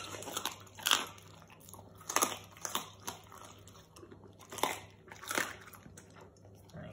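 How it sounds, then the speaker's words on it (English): An English Springer Spaniel crunches through a raw food meal that includes spinach, with close, wet bites and chewing coming in irregular bursts across several seconds, no talking. "You can see her munching through that as well, so she does make sure it's all crunched up before she takes it down."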